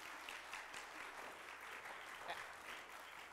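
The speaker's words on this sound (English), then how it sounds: "Give them a round of applause, please." Congregation applause at a youth Sunday worship service at a Friends meeting, soft steady clapping from a modest crowd, faint and distant, lasting a few seconds.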